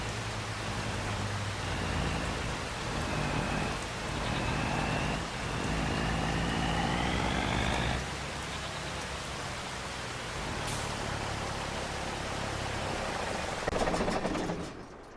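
Steady rain falls in Farming Simulator 25, a broad, even hiss that runs through the whole stretch at moderate loudness, with faint engine hum and some tonal machine whine layered beneath it and no talking.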